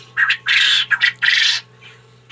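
Several short, harsh quail calls in quick bursts, close and fairly loud, separated by brief pauses over a low steady hum.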